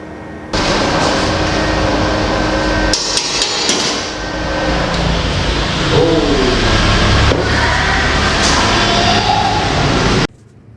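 A Golden Bull 450 W arc welder at 120 amps with a 3.2 mm rod gives a loud, harsh, continuous crackling hiss for about ten seconds, close by, then cuts off abruptly.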